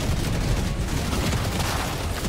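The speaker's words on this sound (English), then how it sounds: "Maybe it was mortar." Mortar and gunfire in the Helldivers 2 video game form a loud, continuous barrage of booms and shots that rumble without pause across the whole stretch, with no talk over them.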